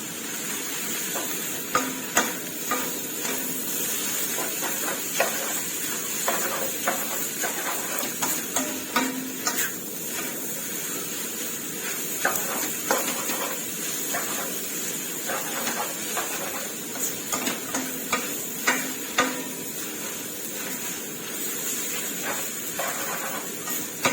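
Mee sua noodles stir-fried with soy sauce and sugar give a continuous loud hissing sizzle, punctuated by frequent light scrapes and taps of a utensil tossing them in the pan.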